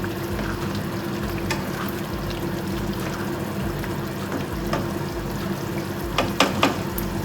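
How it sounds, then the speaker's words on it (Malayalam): Paneer with green chili and ginger sautéing in a pan, a steady low sizzle with occasional stirring scrapes and a couple of sharper clinks near the end. "പച്ച മണമൊന്ന് മാറുന്നതിന് വരെ നമ്മൾ പനീറൊന്ന് വഴറ്റിയെടുത്താൽ മതിയേ, ഫ്രൈ ആക്കരുത്"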